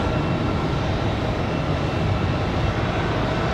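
A Boeing 737 MAX airliner takes off at Raleigh-Durham airport on a windy day, its engines making a loud, steady broadband roar with no voices heard.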